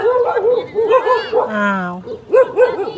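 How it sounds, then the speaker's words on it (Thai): Dog barks and whimpers nearby outside a rural home with a kitchen garden, short yelps over a voice. "เสียงหมาเห่า"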